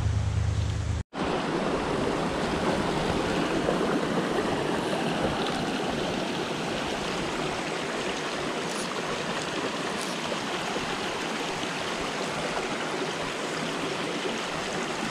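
A Pennsylvania mountain trout stream rushes in a steady, full wash of flowing water, briefly cut out at the very start, then continuous and unbroken.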